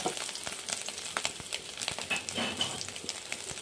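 Soybean chunks frying in a little refined oil in a kadai, a steady crackling sizzle with sharp pops and spatters, close and fairly quiet.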